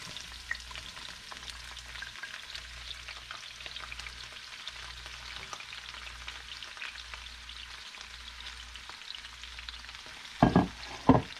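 Vegetables for a satay dish stir-frying in a pan make a soft, steady sizzle with a low rhythmic hum beneath, and a couple of louder clattering stirs come near the end.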